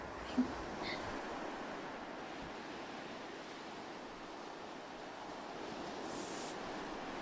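Ocean waves wash onto a beach in the evening, a soft continuous surf roar at low level with a brief faint click near the start and no speech.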